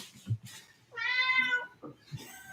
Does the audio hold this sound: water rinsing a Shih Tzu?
no